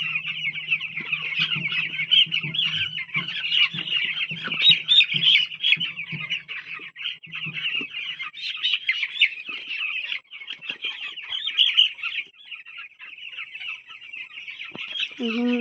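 A dense chorus of chickens clucking and chirping continuously in a poultry shed during vaccination, with a steady busy din throughout.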